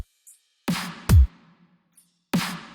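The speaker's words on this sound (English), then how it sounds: "Add drums for the intro." Sparse drum hits open a melodic dubstep intro: a few punchy snare-like cracks and one deep kick thud, spaced apart with silence between, clear and close.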